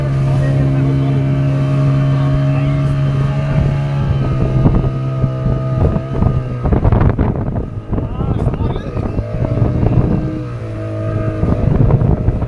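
A boat engine drones steadily out at sea, a low sustained hum under heavy wind buffeting the microphone, with people talking nearby over it.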